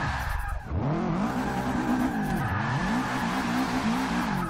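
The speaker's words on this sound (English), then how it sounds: "Huge donuts going on here." A 2015 Subaru STI doing donuts, its engine roaring steadily while the tires skid and squeal in long sweeping waves, loud and close, with no talk over it.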